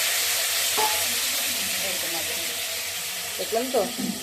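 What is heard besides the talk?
potatoes frying in hot oil in a pan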